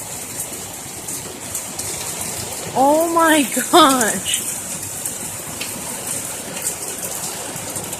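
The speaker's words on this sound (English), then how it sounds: "It is pouring so hard" Heavy rain pours onto the top of a truck as a dense, steady hiss of water, with a woman exclaiming loudly midway over the downpour.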